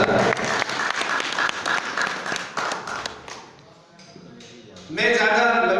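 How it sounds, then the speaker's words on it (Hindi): An audience at a devotional bhajan gathering claps loudly in a dense burst of applause that fades briefly before swelling again near the end. "आप एक बार अपने लिए जोरदार ताली बजाइए, जोरदार"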